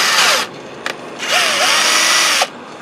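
A power drill fitted with Chinese drill bits whirs in two long, loud bursts with a brief blip between them, its whine sliding in pitch as it spins up and slows.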